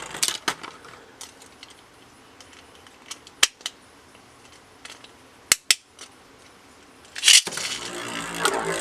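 A Beyblade Burst spinning top is snapped into place with a few sharp plastic clicks. Then a launcher rip sends it off with a bright burst, followed by a steady whirring spin.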